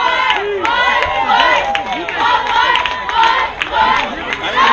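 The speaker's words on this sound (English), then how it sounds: "the crowd is going crazy" A youth baseball crowd at a 14-and-under tournament game cheers and shouts, with many excited voices yelling in overlapping bursts close by.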